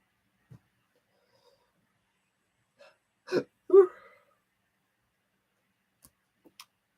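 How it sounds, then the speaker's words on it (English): A person's hiccups come as a few short, abrupt bursts clustered close together, separated by long stretches of near silence and a couple of faint ticks, with no talking. "Yeah, hiccups."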